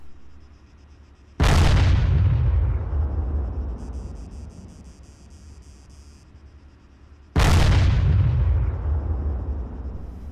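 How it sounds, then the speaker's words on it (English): Artillery shells from a fire mission exploding in the military game Arma 3: two heavy booms several seconds apart, each a sharp loud blast followed by a long rumbling decay, with a faint tonal beeping between them. "the AI gunner will automatically start aiming and execute the ordered fire mission"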